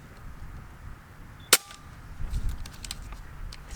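A modded Umarex Notos air rifle fires a single 21.9 AEA pellet, one sharp close crack followed by faint clicks and handling noises.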